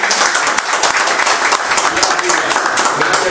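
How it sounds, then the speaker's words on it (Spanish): Loud applause from an audience at a tribute event, dense clapping close up throughout, with talk mixed in. "Un fuerte aplauso"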